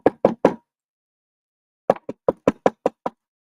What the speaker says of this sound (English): somebody knocking at the door